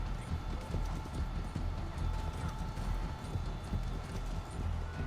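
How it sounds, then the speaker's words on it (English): Horse hooves gallop in a rapid, steady clip-clop rhythm throughout in the video game Red Dead Redemption 2 Online, loud and close, mixed with game ambience and no talking. "let's get the horse going again"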